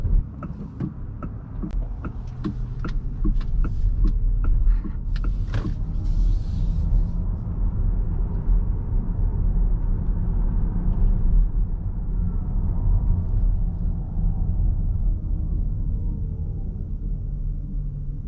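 A Fisker Ocean electric car slows down on the road without braking, giving a steady low rumble of road and tire noise inside the cabin, with a few clicks early on and no speech.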